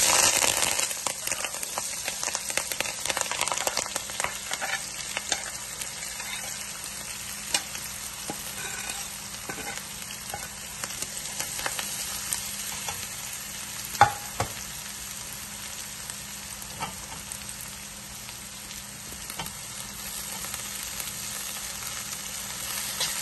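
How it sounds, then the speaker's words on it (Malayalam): Chopped onions and spices sautéing in hot oil for Kerala-style fish molee: a continuous soft sizzle with occasional stirring scrapes and clicks, fairly quiet and steady throughout, no voices. "ഇതിലേക്ക് ഈ അരിഞ്ഞു വെച്ചിരിക്കുന്ന സാധനങ്ങൾ എല്ലാം കൂടെ ഇട്ട് ഒന്ന് നല്ലതുപോലെ വഴറ്റി എടുക്കാം."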